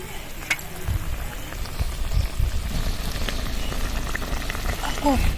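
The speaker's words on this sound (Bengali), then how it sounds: "আর একটু জল দিয়ে দেবো এই রান্নাটার মধ্যে" Okra curry with sugar and slit green chillies simmers in a pan, giving a steady close bubbling sizzle with a soft splash as water goes in; no one talks.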